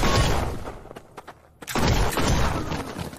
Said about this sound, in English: By the way, yes, you can use shotguns.